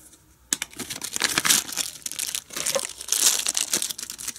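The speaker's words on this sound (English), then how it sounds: "Let's see what comes inside this bag." A plastic bag of parts from a Radium fuel pressure regulator kit for an 08-17 STi is opened, giving close, continuous crinkling and rustling that starts after a brief quiet moment.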